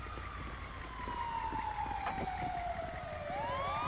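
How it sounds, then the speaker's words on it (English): Ambulance siren from GTA V, a long descending wail sweeping steadily downward and then rising again near the end, loud and continuous over game background noise. "Oh, it's the ambulance!"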